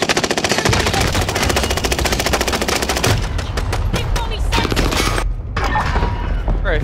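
Rapid automatic gunfire rattles loud and continuous during a Call of Duty-style online match, with a dense burst of fire followed by scattered single shots and booms.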